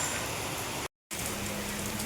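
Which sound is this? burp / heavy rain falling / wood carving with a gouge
heavy rain falling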